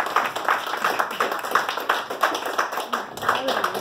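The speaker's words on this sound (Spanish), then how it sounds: "la gente le aplaude." A small crowd clapping to welcome a woman at an adult birthday party with clowns, rhythmic claps at a steady beat, fairly close, with voices talking over them.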